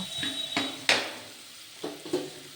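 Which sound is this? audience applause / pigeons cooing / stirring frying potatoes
stirring frying potatoes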